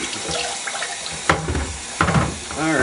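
A sewing machine body is rinsed under a sink tap, the water running steadily and splashing in shifting bursts as it is moved through the stream.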